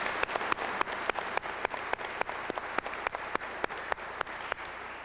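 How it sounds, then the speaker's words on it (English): Applause at a 2002 graduation commencement ceremony for the program helpers, with a steady run of sharp claps from a modest crowd lasting throughout, moderately loud and without speech. "Would you give them a round of applause?"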